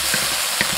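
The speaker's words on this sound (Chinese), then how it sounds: "小火翻炒出香味，炒出红油" Doubanjiang bean paste and hotpot base being stir-fried over low heat in an oiled wok with scallion and ginger, giving a steady close sizzle broken by soft scraping strokes of the spatula.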